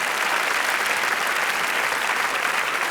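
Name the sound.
audience applause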